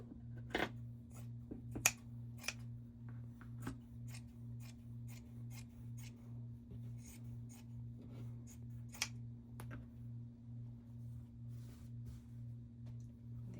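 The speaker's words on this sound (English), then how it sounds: "And then open it up and cut this piece." Scissors snip through bandana fabric in a quiet room, with a series of sharp, separate cuts and rustles over a faint steady hum.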